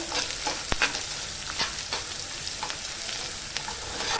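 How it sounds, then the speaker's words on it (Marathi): Finely chopped onion sautéed in a pan for tendli sabji, a steady close sizzle broken by sharp spatula taps and scrapes against the pan at irregular intervals. "आता आपण बारीक चिरलेला कांदा टाकूया तो पण ना छान नरम होईपर्यंत परतायचा आहे"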